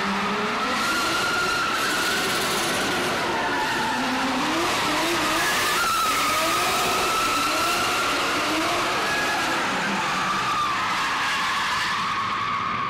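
A drift car slides sideways with tires squealing and engine roaring, a continuous loud screech and wavering engine tone that persists throughout, close and unbroken with no voices.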